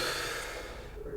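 One deep, breathy inhale during a meditation session, heard close and soft, with air rushing through the nose and mouth for about a second before fading.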